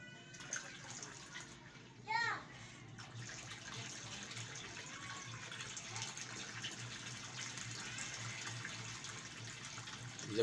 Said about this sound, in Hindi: ये पानी भरा जा रहा है।